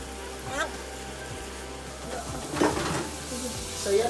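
Phad Thai noodles pan-fry in hot oil with a soft sizzle and intermittent stirring scrapes, close by, while a voice talks over parts of it.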